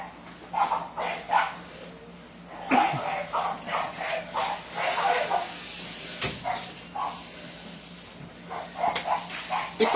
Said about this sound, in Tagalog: ingay na aso